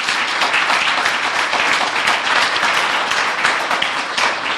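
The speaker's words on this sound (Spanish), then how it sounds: "Denle un fuerte aplauso." A church congregation breaks into loud, sustained applause, many hands clapping in a thick continuous roar that stays strong for several seconds with no voices on top.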